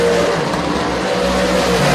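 Race cars speed into turn 1 at Albany-Saratoga Speedway during a night race, engines roaring loudly and steadily close by, with a continuous droning blur of motors and no talking.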